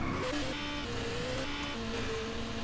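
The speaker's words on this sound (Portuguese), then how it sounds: "Pegar a moto e tentar sair desse lugar," A motorcycle ridden in Just Cause 2 multiplayer gives a continuous, loud engine drone whose pitch rises and falls slightly throughout, with no talking.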